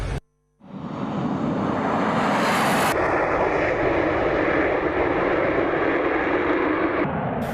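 A Russian Su-35 fighter jet flies overhead with a loud, steady engine roar that swells in after a brief quiet start and holds strong to the end, with no talking.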